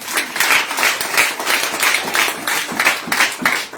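Congregation at a worship service applauding and cheering to acclaim God, steady rhythmic clapping with bursts of cheering throughout, fairly loud and close.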